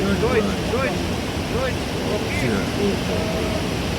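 Steady broadband rushing of the Strbacki Buk waterfall fills the clip at an even level, with faint voices and whistle-like tones scattered over it.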